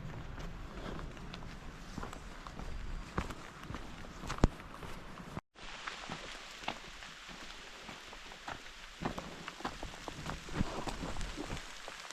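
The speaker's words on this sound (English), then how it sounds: "obviously the rain didn't hold off." Steady patter of rain on surfaces at a campsite on the Appalachian Trail, with scattered drips and crunching steps, briefly cut off midway before the soft pattering resumes.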